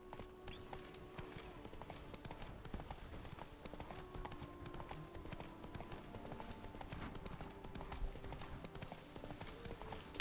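Roach the horse from The Witcher 3 video game gallops with rapid, continuous hoofbeats, fairly quiet and mixed with background game music.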